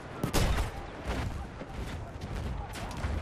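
Mortar fire on a Battlefield 1 Conquest battlefield: a heavy booming burst early on, followed by a rumbling wash of distant blasts and scattered gunfire.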